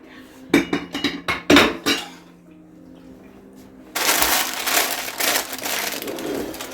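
Baking pans and dishes knocked and clattered into a kitchen sink, a quick run of sharp clanks, then running water gushing steadily from the tap.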